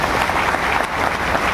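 Loud, dense applause from a crowd at a DXN business meeting, continuous and close for the whole stretch.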